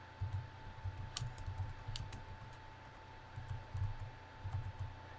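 Keystrokes on a computer keyboard as a terminal command is typed in Bodhi Linux, a quiet uneven run of soft clicks in short bursts with a couple of sharper taps, alone over a steady faint hum.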